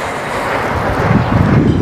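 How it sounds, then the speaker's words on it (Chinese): Gusty wind buffets a microphone at a construction site where concrete is being poured and a tower crane operates, a steady rumbling roar that grows stronger and more turbulent in the second half. "哇塞，吹风"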